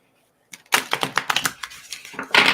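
Tarot cards are shuffled close by: a quick burst of rapid crisp clicks and flutters, ending in a louder riffle.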